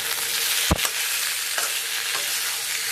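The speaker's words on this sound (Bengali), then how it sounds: "এঁচোড় আলুটা কাল সেদ্ধ করে রেখেছিলাম, এটা আমি একটু হলুদ নুন দিয়ে ভেজে নিচ্ছি।" Boiled jackfruit and potato frying in a pan with turmeric and salt, giving a steady close sizzle with a sharp stir or scrape near the start and softer stirring knocks later.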